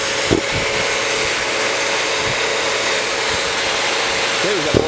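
Two Hilti TE60 core drills with 28-inch hollow bits and their vacuums roar together at full speed in a dense, constant drone, with a few brief thumps and a voice briefly audible beneath.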